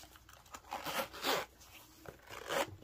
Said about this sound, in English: Zips super easy.